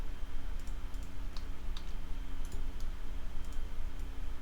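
Keys and a mouse click on a computer keyboard in scattered, light taps and clicks, close but faint against a steady room hum.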